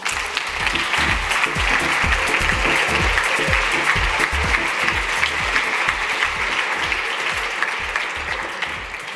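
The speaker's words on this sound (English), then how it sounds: "And a big applause, everyone." A large conference audience on a main stage event claps together in sustained, loud, even applause that holds steady for several seconds with no talking over it.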